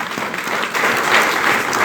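Audience applause at an annual lecture hall event on social media, a steady burst of clapping from many hands, fairly loud and continuous throughout, without speech over it.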